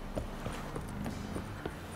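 Roach the horse clip-clopping along in The Witcher 3, a steady rhythmic patter of hoofbeats at moderate distance over a low in-game background hum.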